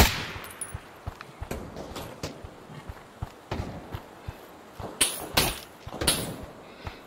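Sharp gunshot cracks and short bursts of gunfire from the Pavlov VR shooter game, irregular and spread across the clip at moderate level, with a few louder, fuller blasts toward the end.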